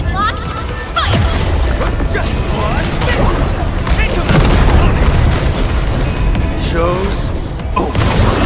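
Weapons fire and explosions in the video game Arknights: Endfield come as dense booms and mechanical crashes in a loud battle scene, with voices calling out over the action.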